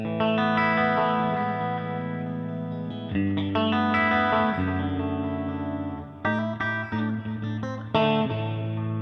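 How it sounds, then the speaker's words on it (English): An electric guitar plays chords and short phrases drenched in amp reverb, with a delay repeating the notes behind it. "it's amp reverb with a little bit of a delay on there as well"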